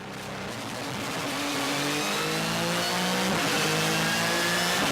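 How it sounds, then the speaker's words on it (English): A Porsche 911 GT3 RSR race car's flat-six engine accelerates in the Le Mans pit lane and onto the track, a loud, close engine note climbing steadily through the gears and growing louder. "Once the flat six is unleashed, there is a massive influx of power."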